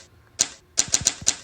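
Typewriter key strikes from a typing app, a single clack followed after a pause by a quick run of four sharp, close clicks, with no voices.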